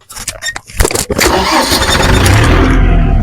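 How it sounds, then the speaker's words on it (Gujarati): A farm tractor's engine cranks with a few rapid, uneven bursts, then catches and settles into a loud, steady running roar, close by. "ટ્રેક્ટરનો અવાજ હું તમને સંભળાવું"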